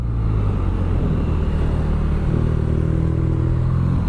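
A 2017 BMW R nine T motorcycle engine pulls hard under acceleration, a loud, steady close-up drone with a low rumbling boxer-engine beat and a slowly rising pitch throughout, with no voices.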